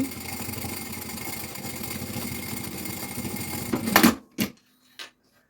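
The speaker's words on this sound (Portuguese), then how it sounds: "Vou só passar aqui uma costura para segurar." A sewing machine stitches a seam on a preschool backpack with a carrier pouch, running in a fast, continuous whir for about four seconds, then stopping with a couple of sharp clunks before silence.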